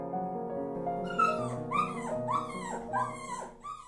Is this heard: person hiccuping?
no